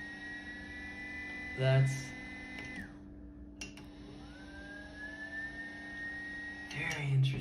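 A TIMEMORE Sculptor 078 coffee grinder set to 2 starts softly, its motor whine climbing gradually in pitch, close and fairly quiet, with a few brief spoken words and handling noise around it.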